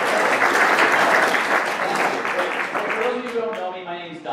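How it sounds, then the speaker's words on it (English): Loud, close audience applause at an environmental forum at SUNY Adirondack in Queensbury swells briefly and then thins out, with a voice beginning to speak as the clapping fades. "So give yourselves a round of applause for being here."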